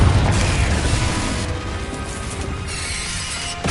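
A loud, booming Confringo spell explosion in the video game Hogwarts Legacy opens with a heavy blast, and its roar slowly fades over rumbling combat noise.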